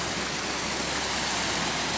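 A steady, dense rush of water flowing continuously, like a stream or small waterfall close by, with no other sounds.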